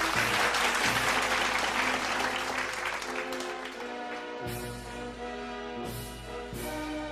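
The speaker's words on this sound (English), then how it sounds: "Let's give him a warm round of applause." Audience applause at the closing session of a leadership conference, a dense steady clatter of many hands filling the room and holding strong throughout, with music sounding beneath it.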